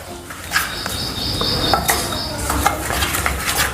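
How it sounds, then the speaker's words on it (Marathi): A metal spoon stirs roasted gram flour (besan) around a very hot kadhai just taken off the gas, making steady scraping with sharp clinks against the iron sides, close and continuous. "कढई खूप गरम आहे त्यामुळे मी हे चमचा याच्यामध्ये थोडा वेळ फिरत राहते"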